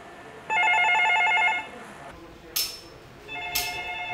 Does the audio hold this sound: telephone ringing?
yes